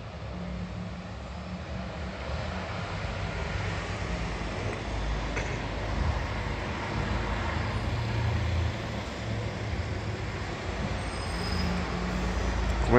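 Trains pass near the railway station in Florence, a steady distant rumble of rail traffic with faint wheel squeals and background street noise, continuous throughout.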